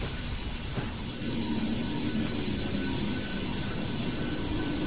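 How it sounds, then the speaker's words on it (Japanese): A transport aircraft in the game Vanquish flies in to land, a dense continuous engine roar with a droning hum that stays loud and steady throughout, with no voices. "バーンズ、輸送機を向こう岸に着陸させてくれ。"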